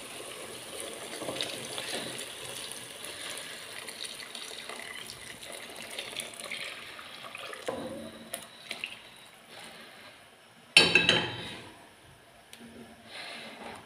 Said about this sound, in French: Donc maintenant je vais pouvoir verser l'eau chaude.